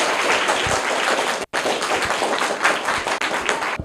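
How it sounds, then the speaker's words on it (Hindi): Applause and clapping from an audience at a school quiz competition honoring a winner, dense and steady across the whole stretch with one abrupt momentary gap near the middle. "जोरदार तालियां हो जाए इनके लिए।"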